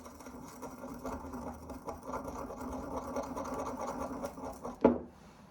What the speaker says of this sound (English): Maybe I'll see if I can grind it a little bit.